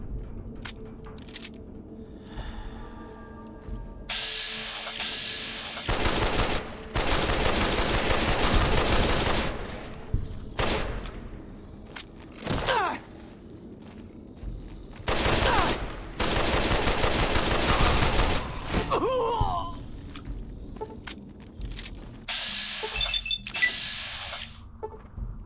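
Gunfire from a weapon in Fallout: New Vegas, played on the Lonesome Road add-on, comes as loud sustained bursts of rapid shots separated by short pauses, alongside sharper single cracks and the game's background sounds.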